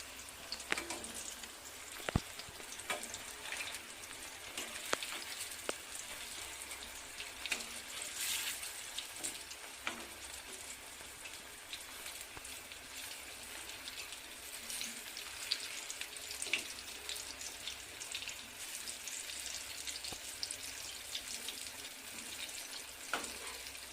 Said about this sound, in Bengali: একটু পাল্টে এরকম লাল লাল করে ভেজে নেব।